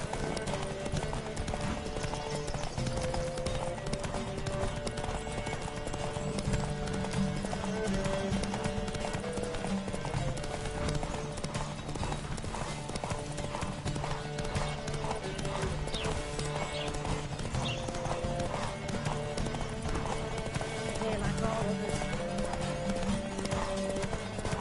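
Rapid, steady hoofbeats of a galloping horse in The Witcher 3: Wild Hunt carry on throughout, with faint music beneath them.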